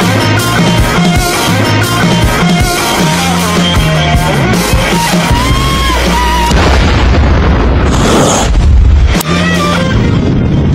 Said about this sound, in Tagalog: ay sumabog na nga ang pangatlong bomba na itinanim nila Beyond Netero